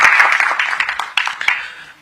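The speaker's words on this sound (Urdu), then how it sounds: "ایک بار زوردار تالیاں ہو جائے پروفیسر صاحب کے لیے" Applause from an audience for Professor Khalid Alvi at a talk on Mirza Ghalib, a dense, steady wash of many hands clapping that holds for about two seconds and gently tapers off.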